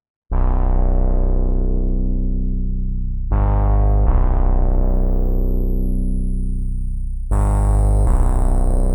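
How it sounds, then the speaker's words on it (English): A deep, buzzing synth bass plays long sustained notes with a gritty, digitally crunched tone from sample rate reduction; a high whistling whine sweeps in partway through. "start adding the sample rate reduction and beat reduction to the bass line"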